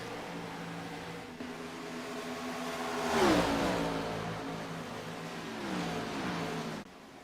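Stock cars roar past at Atlanta Motor Speedway, engines droning steadily with a loud, rising-and-falling pass around the middle as cars run side by side, then a second softer surge before the sound drops off.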